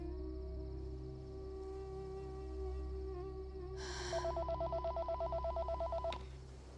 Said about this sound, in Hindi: वो हमेशा इस वक्त मुझे फोन करती है। Answer the phone.